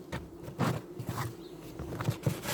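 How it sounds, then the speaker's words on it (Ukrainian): Honey bees buzzing in an open hive as the nests are assembled for winter, a dense, close, wavering drone with soft knocks and rustles of frame handling mixed in. "Досить велика кількість бджіл."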